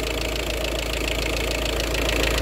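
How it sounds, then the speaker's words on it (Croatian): A VW Passat 3BG 1.9 TDI diesel engine idles steadily up close, its worn hydraulic lifters producing a fast, even ticking over the constant mechanical drone. "Sad čuju hidropodizači i glavu ću morati da radim."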